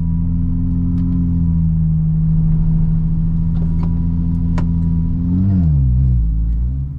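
A Porsche 996 Turbo engine holds an unusually high idle near 2,000 RPM, a steady close droning hum with faint ticks that wavers and dips briefly near the end.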